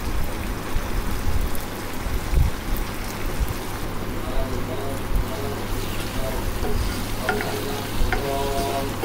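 Curry cooking in a pan on the stove, with fish roe pieces added, gives a steady soft sizzle and bubbling throughout, with a few clinks of utensil against the pan.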